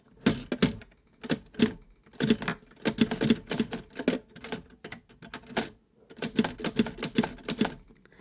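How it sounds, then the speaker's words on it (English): A manual typewriter being typed on at a steady pace, with bursts of sharp key strikes separated by brief pauses, close and clear with no talking. "I have a typewriter over here. And just listen."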